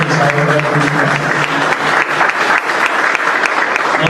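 Attendees at an eighth alumni gathering of a Colombian corporation burst into loud, dense applause, many hands clapping continuously at close range, with faint voices underneath.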